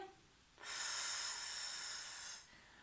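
One long, breathy exhalation during a sophrology relaxation exercise, a soft steady hiss lasting close to two seconds and then fading out.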